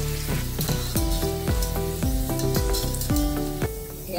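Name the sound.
shankarpali frying in hot oil until golden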